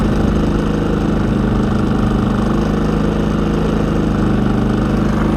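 A generator engine runs loud and close, heard from right beside it at zero feet, with a steady, unbroken rumbling drone and no other sounds.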